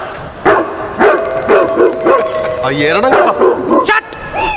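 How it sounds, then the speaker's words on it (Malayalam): A dog barks repeatedly in sharp, close, loud bursts, with some yips and whimpering, while people talk over it. "എരണം കേട്ട പട്ടി കിടന്ന് കുരയ്ക്കണം"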